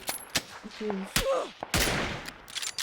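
Several sharp gunshots crack in an irregular burst in PUBG on winter Erangel, mixed with other game-like effects and brief tones.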